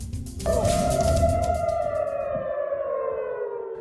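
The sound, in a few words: air raid sirens sounding in Tel Aviv, Israel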